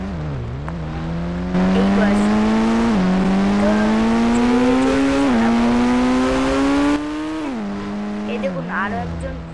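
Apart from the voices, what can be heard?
motorbike riding past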